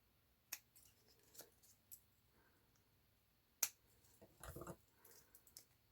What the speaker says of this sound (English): And just cut round it.